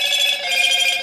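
A phone rings in the middle of a spoken sermon, a steady electronic ringtone that is fairly loud and fills the whole moment without any voice over it.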